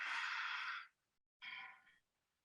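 A long, breathy exhale lasting nearly a second, followed after a brief pause by a shorter, softer breath, close and alone during a guided breathing exercise.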